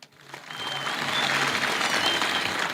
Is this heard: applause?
yes